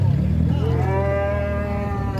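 A tame ox lows at a cattle fair, a single long, loud, drawn-out moo close by, with faint background noise.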